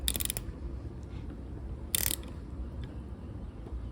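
An ironcube metric ratcheting wrench from a 72-tooth set tightens a bolt, giving two quick bursts of close, crisp ratchet clicks separated by a pause over low background noise.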